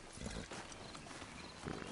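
Horse hooves clip-clopping in the Western video game Red Dead Redemption, a steady run of muffled hoofbeats close by with a fuller burst of steps near the end, no talk over them.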